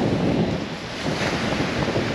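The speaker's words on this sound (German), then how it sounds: "Ein bisschen windig ist es, muss ich sagen" Strong wind buffeting the microphone in a steady low rumble beside a lake in southern New Zealand, with a faint wash of water in the background.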